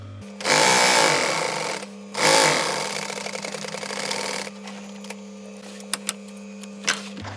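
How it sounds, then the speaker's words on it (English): A sewing machine stitches a camper cushion cover in two loud bursts of fast, rhythmic mechanical chatter, followed by a quieter steady hum with a few sharp clicks and taps. "Sew to that point, needle in, and I should just be able to sew all the way to the end now."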